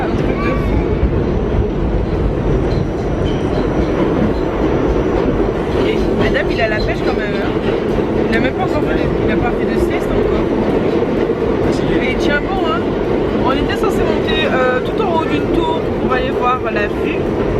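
A New York subway train passes with a loud continuous rumble and rattling wheels, close and steady throughout, while people talk over it.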